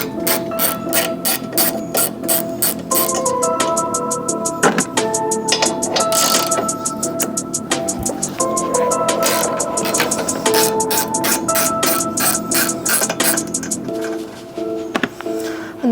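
A ratchet clicks in rapid close bursts while backing out 15 mm strut brace bolts on a BMW G80 M3, the rhythmic pawl ticking pausing and resuming several times, with faint metallic knocks between strokes.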